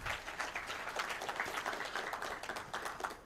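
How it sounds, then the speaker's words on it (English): Audience applause at a telecom company staff event, a crowd clapping steadily in a dense, even patter, distant and fairly faint, sustained for the whole stretch. "Clap for Andrew."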